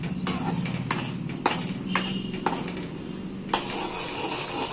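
Sugar being stirred with a spoon into a tamarind chole chaat mixture, a steady soft scraping with several sharp clinks of spoon against the vessel at irregular intervals.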